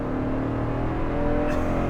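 A Toyota Sequoia TRD Pro with its 5.7-liter V8 accelerates hard, the engine note loud, close and steady throughout, with a deep rumbling drone.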